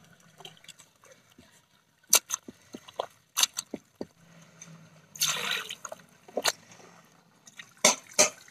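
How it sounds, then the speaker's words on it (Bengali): Cold water is poured over cooked bottle gourd greens in a kitchen. Scattered close drips and splashes lead up to a brief, louder gush of pouring midway, followed by a few more drips. "এখন দিব আমি ঠান্ডা জল শাকের মধ্যে।"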